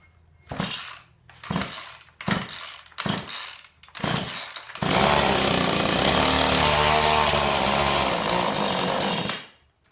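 A chainsaw engine with muffler, fitted to a minibike, sputters through several short pulls and coughs, then catches and roars loudly and steadily before cutting off abruptly.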